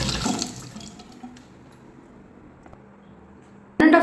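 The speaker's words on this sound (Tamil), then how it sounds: "ஃபேஸ் வந்து தண்ணி போட்டு வாஷ் பண்ணிக்கலாம்." Tap water runs and splashes as a face is washed, a loud rush at the start fading into quieter trickling, then a sudden burst of flowing water at the end.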